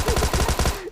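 A short, loud burst of rapid automatic gunfire in a shooting video game, about nine evenly spaced shots fired close by, ending abruptly.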